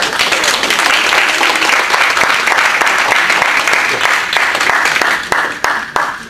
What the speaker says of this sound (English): Let's clap our hands and praise God.